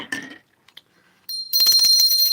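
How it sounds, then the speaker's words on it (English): A small Liberty Bell replica with a crack, rung by hand, giving a bright, close ringing with a shimmering sustained tone and rapid repeated strikes after a few quiet knocks. "Ringing my Liberty Bell. Got a little Liberty Bell."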